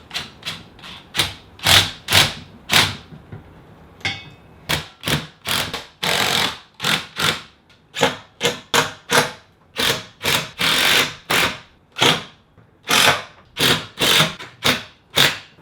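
A power tool whirs in short repeated bursts, starting and stopping in a quick irregular rhythm, loud and close with no talking, while a TV stand is assembled.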